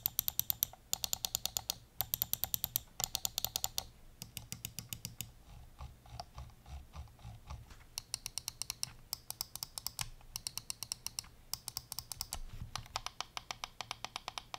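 A Redragon M721-Pro gaming mouse has its buttons clicked rapidly in bursts, sharp close-up clicks in quick trains separated by short pauses, quiet and with no talking.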